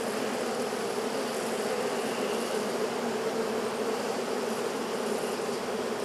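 Honey bees buzz continuously around an open hive, a dense, even drone from many insects close by, filling the whole stretch without any voices.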